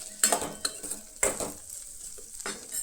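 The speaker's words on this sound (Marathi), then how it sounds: "ते बीन बरें अशें न्हय परतून घेयात" Sabudana khichdi being stirred and sautéed with salt in a pan: a few distinct scraping strokes spaced about a second apart, each carrying a soft sizzle, close and fairly quiet.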